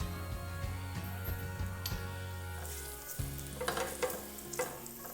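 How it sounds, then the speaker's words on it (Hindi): Carrots fry in oil for Kabuli pulao, a steady close sizzle with occasional stirring scrapes and a low hum beneath. "आधा कप बाकी का इस वक्त डालेंगे जब हमें गाजरें फ्राई करनी है"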